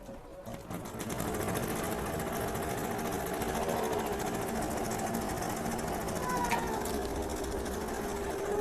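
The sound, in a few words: embroidery machine stitching a design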